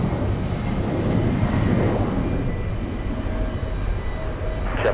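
A jet airliner powers down the runway on its takeoff roll at JFK airport on a hot summer day, a steady, loud broadband engine roar holding throughout without a break.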